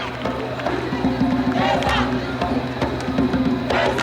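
Crowd at a school basketball game cheering and shouting, a dense, steady roar of voices with scattered whoops and claps throughout.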